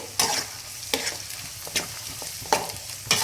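Carrots and mixed vegetables stir-fry in a hot pan for egg fried rice, with a steady sizzle broken by regular scraping strokes of a spatula about every three-quarters of a second.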